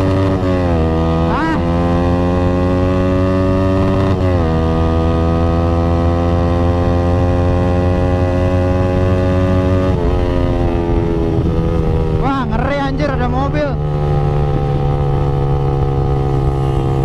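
Yamaha RX-King motorcycle engine racing at night, a loud steady two-stroke drone holding pitch for most of the stretch, with a short burst of revving and pitch wobble near the end, close and continuous.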